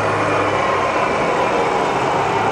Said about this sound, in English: We're running the machine right now, the spindle in the high speed.